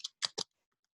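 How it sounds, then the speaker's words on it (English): Three quick, light clicks of computer keys as a password goes in, close and crisp, then silence. "There you type in your password."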